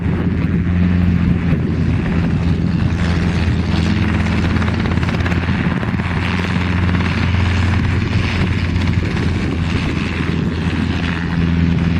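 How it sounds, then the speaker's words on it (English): Several helicopters fly overhead together, their loud, continuous rotor roar blending into one dense throbbing drone that barely changes for the whole stretch, with no talking. "That's a lot of helicopters."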